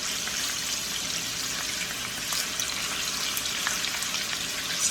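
Bacon sizzling in a hot pan over medium-high heat, a dense, steady crackle and hiss with occasional pops, close and continuous, with no talking.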